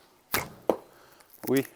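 Arrow loosed from a vintage Ben Pearson Superjet bow with slightly too-stiff arrows: a sharp release thump followed by a brief whoosh and impact, near and clear, with a short voice sound at the end.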